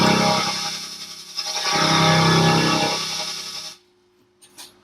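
Darkpsy lead synth from the Serum plugin with automated filter cutoff, a loud buzzing sustained tone whose brightness sweeps and swells over a few seconds, then cuts off abruptly into near silence with a faint trailing blip.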